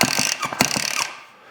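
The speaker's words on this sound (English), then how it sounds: "that little squeaking noise you heard there, that's the reeds" Reed valves in a Yamaha YZ 300X two-stroke engine squeak in quick rapid clicks during a big bore cylinder install, close and fairly loud, alone for about a second before fading.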